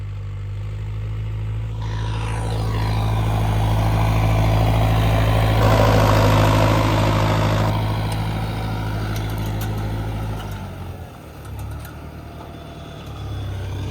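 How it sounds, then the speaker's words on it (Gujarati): A farm tractor used for sowing fields idles with a steady, loud low-pitched engine rumble that continues throughout, swelling slightly in the middle before easing and dipping near the end. "આપણા ખેતરમાં વાવવાનું સોલ્યુશન આ આપણું ટ્રેક્ટર."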